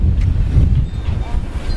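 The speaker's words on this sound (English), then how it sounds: "It's really windy now." Strong wind during Hurricane Dorian aboard a liveaboard sailboat, a loud low rumbling buffet of gusts hitting the microphone in uneven surges, with the rush of moving air underneath.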